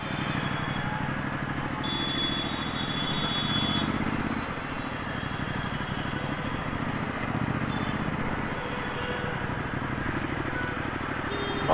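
Heavy road traffic in hot sun near Kathipara, Chennai, during a ride on a Ducati motorcycle, a constant dense engine and road roar with a brief beep early on, steady and loud throughout.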